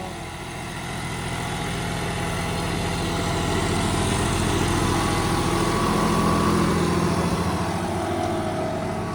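A John Deere 5210 4x4 tractor engine idles steadily close by, a low chugging rumble that holds even and unbroken.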